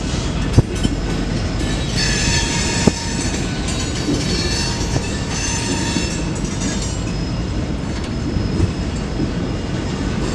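A freight train with Santa Fe B40-8W locomotives rolls past, a steady loud rumble of wheels on rail with occasional clanks and faint high squealing, sustained throughout without voices.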